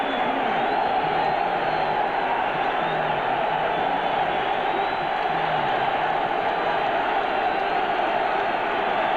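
Roaring stadium crowd at a 1993 NFL game between the Dolphins and Patriots, a constant broad wash of massed voices and cheering that holds steady throughout without any clear break or single voice.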